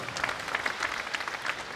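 Faint, distant applause from the audience at a children's concert honoring Black Sea sailors, heard as a soft patter of clapping with slightly rhythmic pulses.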